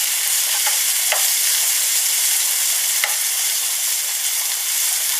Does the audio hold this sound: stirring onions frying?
yes